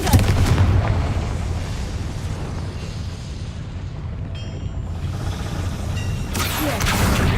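In a Harry Potter video game, a Confringo explosion spell goes off as a deep rumbling blast that slowly fades, then swells again near the end.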